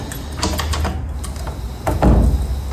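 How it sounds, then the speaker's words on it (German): A heavy hotel room door is unlocked with a key and pushed open: a run of light metallic clicks and rattles, then a louder, deeper clunk and rush as the door swings, heard close. "Oh, die Tür ist einfach nur so schwer."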